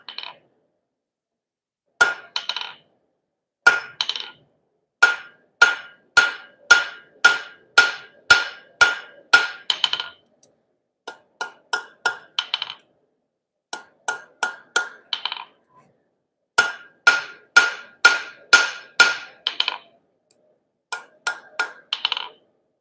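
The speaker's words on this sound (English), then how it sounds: "Edge of the anvil. It's a nice, easy whack." A blacksmith strikes metal on the edge of an anvil with steady, ringing hammer blows in several runs of rapid strikes with short pauses between them. The metallic clang is bright and close.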